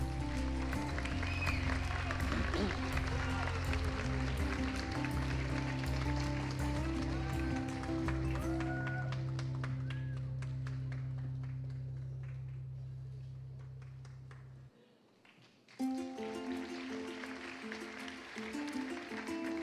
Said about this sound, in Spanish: Aplaudimos con fuerza el octavo año L